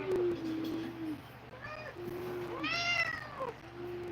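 A cat meows several times nearby, a few drawn-out calls with rising and falling pitch, close and fairly quiet against a faint household hum, with a person's low voice briefly in the background.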